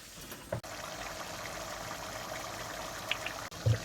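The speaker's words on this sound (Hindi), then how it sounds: "अब मैं इसमें पानी डालूँगी।" Water poured into a pot of daal mash while it cooks, a steady broadband rush lasting about three seconds between a couple of brief clanks, with no talk over it.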